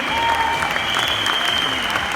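Audience applause at an Indian event honouring people being named from the stage, a brisk, dense clapping from many hands that holds steady and loud throughout, accompanied by a sustained high electronic tone.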